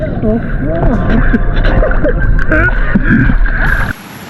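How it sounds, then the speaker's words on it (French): A small private motorboat in the Philippines putters along on the water with a steady engine whine and splashing, while people talk over it until it suddenly cuts out. "C'est mon bateau privé."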